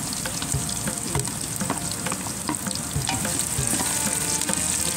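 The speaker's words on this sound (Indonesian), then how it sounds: "Kita teruskan menumis ya" Onion, garlic and ginger sautéing in hot oil for beef dalca, a steady close sizzle and crackle with scattered stirring scrapes throughout, no talking.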